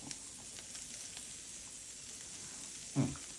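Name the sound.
A5 Wagyu beef sizzling on Zojirushi indoor grill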